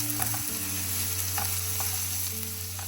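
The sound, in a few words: onion and garlic being stirred and fried in a pan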